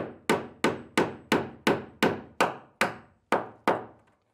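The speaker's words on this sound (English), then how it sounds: "You should be like palm nailing." A palm nailer drives nails into floor joists while wires are secured during an electrical rough-in of a shed being converted to a tiny house, giving ten sharp, evenly spaced hammering strikes that ring out loud and alone, then stop.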